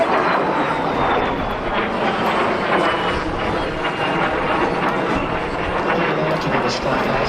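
De Havilland Vampire FB.52 jet flying at the Clacton Airshow 2025, a broad continuous roaring whoosh that holds steady throughout, with an announcer talking over it.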